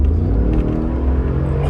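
Brabus-modified Mercedes G Wagon, a heavy SUV, pulls hard under acceleration with a deep, loud continuous rumble from inside the cabin, steady and unbroken.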